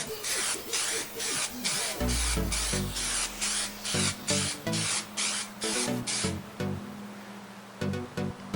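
Aerosol can spraying a coat of Plasti Dip rubber coating, a series of short hissing bursts in a steady rhythm, close and fairly loud, with brief gaps between sprays.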